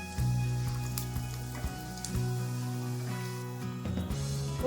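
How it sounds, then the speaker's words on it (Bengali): Whole cumin seeds and small cardamom pods spluttering in hot oil, a steady close sizzle with scattered pops and crackles throughout, a few louder bursts near the end, no voices. "দিচ্ছি সাদা জিরে ফোড়ন, আর ছোট 3টা এলাচ ফাটিয়ে নিয়েছি,"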